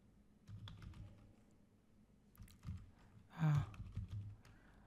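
Quiet typing of code on a computer keyboard, soft scattered keystrokes in a few short bursts, close but low in level.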